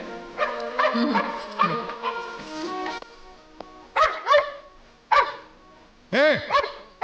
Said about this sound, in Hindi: ये कुत्ता एक जगह देखकर बार बार क्यों भौंक रहा है?